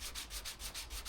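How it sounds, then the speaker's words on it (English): Hand sanding on wood makes a soft, rhythmic rasp, about six even back-and-forth strokes, close but quiet, with no voices. "just sanding in, you know, cleaning all the sort of bits and pieces up here."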